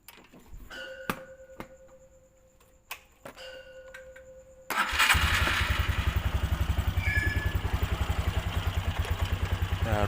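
Suzuki Spin scooter with a stalling fault starting on a connected battery: a few clicks and ticks, then the small engine catches and settles into a close, steady, rhythmic idle.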